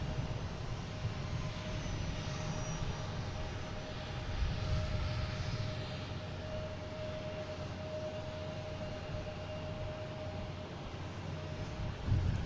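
A Gulfstream business jet at Boston Logan International Airport gives a steady, fairly distant engine roar with a faint sustained whine, holding even throughout with no talk.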